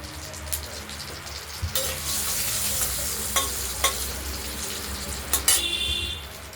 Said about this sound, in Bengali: শুকনো লঙ্কা, তেজপাতা, দারচিনি আর দেব এলাচ। আমরা ফাটিয়ে দিলাম।